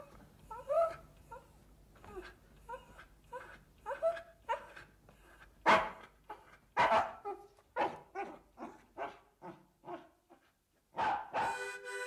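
Dog barks repeatedly in a short, uneven series, some sharp and loud, others softer yelps, set in a kitchen in a cartoon scene, with a few moans and whines between them.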